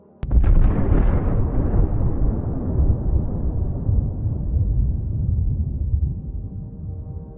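The Trinity test, the first nuclear bomb, goes off with a sudden loud blast, followed by a long deep rumble that slowly fades over several seconds.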